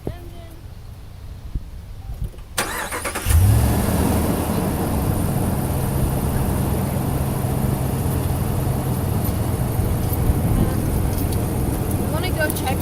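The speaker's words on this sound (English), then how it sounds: "I'm going to start the engine." A truck engine cranks and catches, then settles into a loud, steady running drone close by, alone without talk, as part of a vehicle jump-start.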